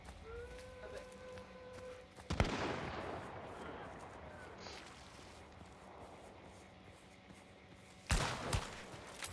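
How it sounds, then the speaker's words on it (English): Gunfire in Hunt: Showdown: two sharp distant shots several seconds apart, each followed by a rolling echo, over quiet outdoor ambience. "Someone else shooting at him."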